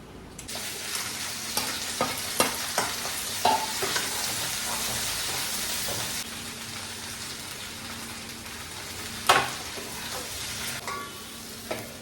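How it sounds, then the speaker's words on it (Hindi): Atta flour roasts in a pan, a constant dry sizzling hiss with scattered scraping and tapping from stirring, plus one sharp knock near the end. "तो अब मैं भून रही हूँ आटा।"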